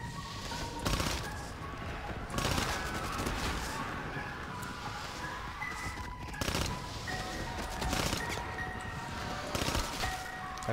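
Repeated bursts of gunfire in a Call of Duty zombies game, sharp volleys recurring every second or two over a steady background din of game sound.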